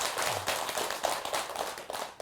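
A congregation clapping during a Buddhist dharma service at a temple, brisk scattered handclaps in quick uneven rhythm over a couple of seconds, moderately quiet.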